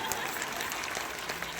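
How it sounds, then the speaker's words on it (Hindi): Audience applause at a Hindi poetry gathering (kavi sammelan), steady dense clapping from a crowd filling the whole moment without pause. "एक बार मेरे सम्मान में भी ताली ठोक दो"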